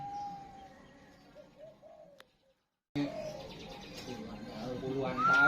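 A zebra dove (perkutut) coos in soft, rising tonal phrases during the opening seconds, then a denser, noisier stretch of chirping and background sound takes over after a brief silence.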